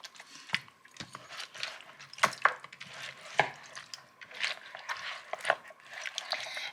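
Korean BBQ ribs being mixed in marinade make irregular wet slaps, squelches and clacks against the bowl, with several sharper knocks standing out among the sloshing, close up and with no one talking.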